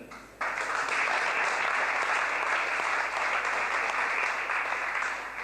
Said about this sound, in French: Je vous demande d'applaudir Jean-Pierre Charpenel.